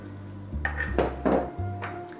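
A microwavable plate being handled on a counter, giving a few clinks and knocks over about two seconds, close and moderately loud, with no talking.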